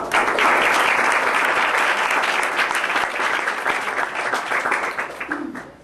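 Applause from a debate audience fills the room, a dense steady wash of many hands clapping near and loud, then thinning and fading out toward the end.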